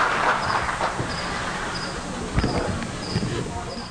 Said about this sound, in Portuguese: Dá pra ouvir os grilos, cara.